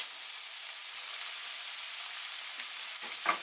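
Mutton chukka varuval sizzles and fries in thick, reduced gravy with oil separating, a steady close hiss with a few soft stirring scrapes near the end.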